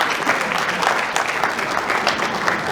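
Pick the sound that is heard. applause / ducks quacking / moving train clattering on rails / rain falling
applause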